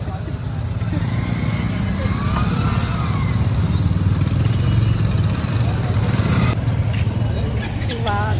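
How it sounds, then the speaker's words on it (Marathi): Jammed road traffic rumbles with a steady mix of idling and revving engines from motorcycles and cars, loud and nearby, with faint voices and a brief tonal horn-like call near the end. "आणि आता आम्ही चालता चालता ट्रॅफिक मध्ये अडकलो।"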